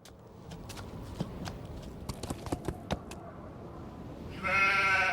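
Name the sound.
sheep bleating in Nancy Drew video game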